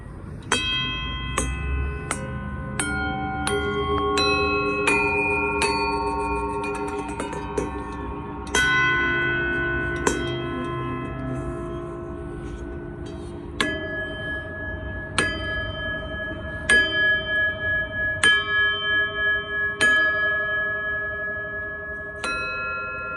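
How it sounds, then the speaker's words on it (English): Bright metallic bells ring out one after another, each strike leaving a long shimmering tail, with quicker repeated tolls near the end. "Let's do some bells."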